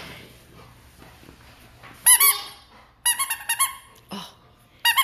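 A rubber dog toy ball squeaks in sharp, loud, close bursts: one pair, then a quick run of several squeaks, then a final squeak, over a quiet background.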